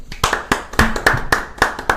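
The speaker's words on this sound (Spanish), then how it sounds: "Lo presentamos rápidamente con un fuerte aplauso a José María, el Chema Forte." Applause welcomes a guest on a Córdoba streaming talk show: a handful of sharp, close claps in a quick, fairly even rhythm, with no voices over them.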